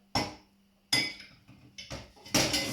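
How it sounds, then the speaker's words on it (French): A small jar dropped into a kitchen sink while making chocolate almond spread, several sharp clanks and clattering knocks close by as it settles against metal and dishes, with no talk. "mon petit pot, il part à la vaisselle"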